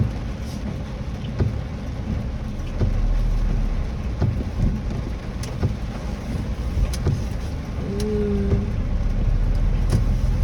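Rain falls steadily in Butuan, a continuous dense hiss with scattered taps and drips, constant in level throughout and with no voices.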